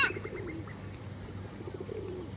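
Pigeons cooing nearby as birds are fed bread, repeated soft coos over a quiet outdoor background.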